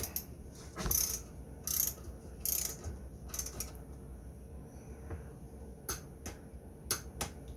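Wrench tightening a bolt with the torque set to 30 pounds, with quiet mechanical clicking and ratcheting and a few sharper ticks spread across a fairly faint, low background.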